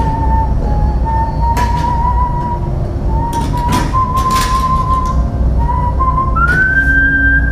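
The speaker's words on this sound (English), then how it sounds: "shows up whistling a jaunty tune" A person whistles a jaunty tune alone, clear bright notes rising and sliding in short phrases over a faint background hum.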